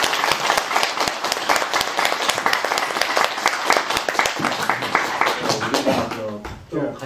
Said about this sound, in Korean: 우리 천안 선생님께 박수를 한번 주세요.